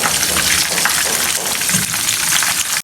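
Seekh kebabs fry in hot oil with a dense, steady crackling sizzle, loud and close, lasting the whole moment without pause or speech.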